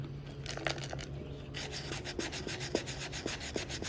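A faux camera having its paint sanded off by hand, with steady, even rasping strokes of moderate pressure, close and rhythmic, gritty friction continuing without speech.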